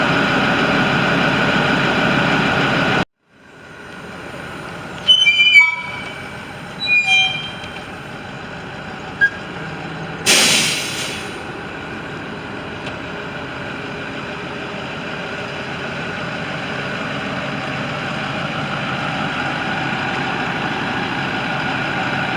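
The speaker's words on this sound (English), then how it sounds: "I'm going to move this bus up." A 2013 International shuttle bus engine idles steadily with a low diesel hum, briefly cutting out, then restarting, with a few clunks and a short hiss before settling into a continuous rumble as the bus moves up.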